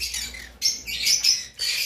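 Conure parrots, including sun conures and pineapple conures, kept as breeding pairs in a bird shop, giving harsh, shrill squawks in several bursts one after another, close and loud.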